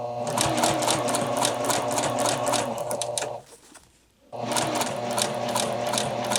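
A sewing machine runs in a fast, steady whirring chatter while stitching a neckline facing. It pauses briefly for about a second, then starts up again at the same pace, close and clear.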